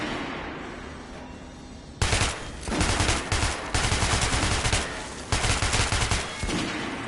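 Rapid bursts of weapon fire on a shooting range in the Metro video game, several loud volleys of gunshots in quick succession after a quieter lead-in, with no talking.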